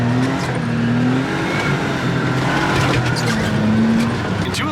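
A JDM mini truck drives through snow with the differential locked in two-wheel drive, its engine droning steadily and close throughout, with rising revs and faint tire slip over a constant rumble.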